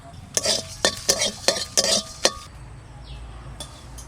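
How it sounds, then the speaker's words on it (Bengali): Two dried red chillies, a bay leaf and some cumin dry-roast in an empty pan, heard as a quick series of about six loud metallic spatula scrapes and clinks over a faint hiss, then near quiet. "দুটো শুকনো লঙ্কা, একটা তেজপাতা আর একটু জিরে, আগে একটু শুকনো খোলায় ভেজে নিই।"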